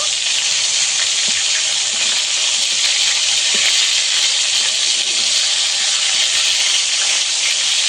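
Fish fry in hot oil with a constant, loud, dense hiss and sizzle that holds steady from start to finish, close by.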